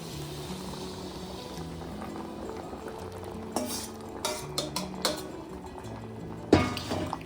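Boiled pea water poured into spiced ghugni made with mutton fat, then stirred in a pot: soft liquid pouring gives way to spoon scrapes and clinks against the pan, with one sharp knock near the end.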